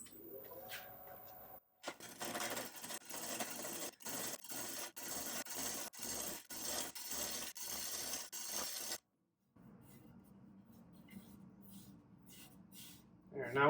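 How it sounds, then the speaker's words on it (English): Wood lathe spinning a bowl blank while the outside is trued up, loud rhythmic rasping and knocking bursts from the tool meeting the uneven wood, then a quieter, smoother whir; close by. "I'm going to turn this on and true up the outside."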